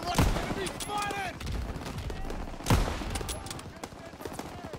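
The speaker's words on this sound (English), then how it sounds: "Everyone open fire!" Rapid bursts of gunfire crackle in Call of Duty WW2 during an Operation Cobra battle, with two sharper loud shots standing out among the continuous shooting and faint voices.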